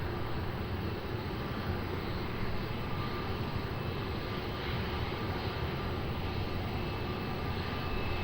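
An airliner on runway 20 at Lisbon Airport gives a steady, broad engine roar that stays constant and moderately loud, heard alone with no voices.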